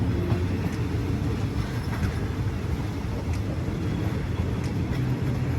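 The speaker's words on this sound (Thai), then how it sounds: "ตอนนี้ขบวนรถเร็วที่1สารถ ได้เข้า เคลื่อนสู่แนวเส้นทาง ใหม่ เป็นทางรถไฟทางคู่แล้วนะครับ" Express train No. 1 rolls along a new double-track railway, a steady, loud rumble of wheels and carriages holding evenly throughout with no voices.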